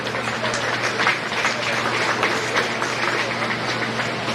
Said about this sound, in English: let's give that last young man a nice round of applause